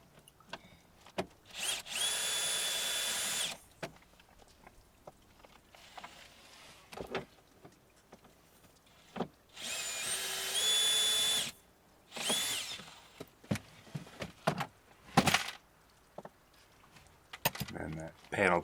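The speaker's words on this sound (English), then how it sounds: "That is a 8mm socket, and you just unscrew those bad boys." A power tool fitted with an 8mm socket spins bolts loose on a Ford Mach-E in several separate loud whirring bursts, mixed with clicks, rattles and handling noises in a quiet space.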